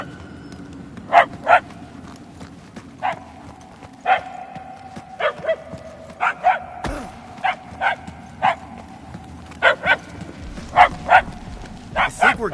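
Dogs bark in the Guardians of the Galaxy video game, a long run of sharp, separate barks at an uneven pace, mid-distance and moderately loud, over faint background ambience.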